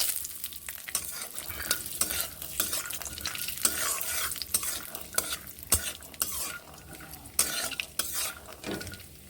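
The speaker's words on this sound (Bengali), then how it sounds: "কড়াইতে তেল দিয়ে নিয়েছি তেল গরম হয়ে গেছে এবার আমি বাদামগুলোকে ভেজে নেব" Peanuts fry in hot oil in a wok, crackling and sizzling loudly and close, with repeated bursts of stirring and clinks of a spoon against the metal pan.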